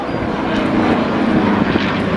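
An aircraft takes off at the Blackpool Air Show, its engine giving a loud, steady roar that fills the scene with no speech.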